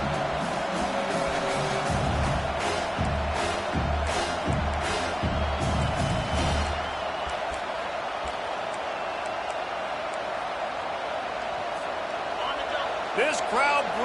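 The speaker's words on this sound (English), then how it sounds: "This crowd bringing the energy and noise early." Stadium crowd at a football game, a broad roar of noise and cheering filling the whole stretch, with booming thuds early on and a commentator talking over it.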